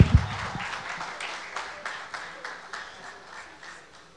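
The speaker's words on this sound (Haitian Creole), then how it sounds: "Continuez applaudissements, continuez." Applause from an awards-show audience at a carnival music event, a burst of clapping that thins into a steady patter of hands, moderately close and sustained throughout.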